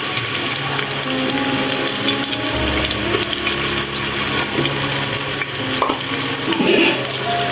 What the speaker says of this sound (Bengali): পেঁয়াজগুলো একটু বাদামি কালার করে ভেজে নেব।